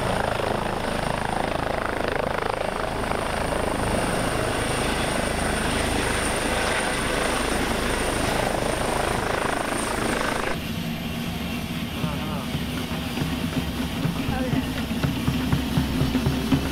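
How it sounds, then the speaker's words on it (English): A helicopter flying over Tahiti gives a loud, continuous rotor and engine roar that persists throughout, shifting in tone partway through as the craft moves. "Just hired us a helicopter to go serve Chopo."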